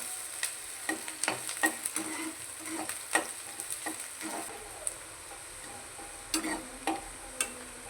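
Finely chopped onions frying in a pan toward golden brown, a soft sizzle under a string of sharp spatula scrapes and taps against the pan, close and uneven in rhythm.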